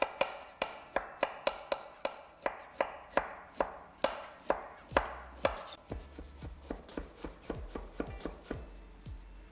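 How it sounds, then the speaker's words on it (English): A knife chops cauliflower on a cutting board with about thirty crisp, evenly spaced knocks, speeding up into faster, lighter cuts near the end, close and clear with no talking. "so I'll cut it in half and then just cut it into pieces"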